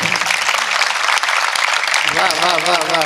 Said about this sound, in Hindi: ताली बजाइए, मैंने अच्छी बात कही।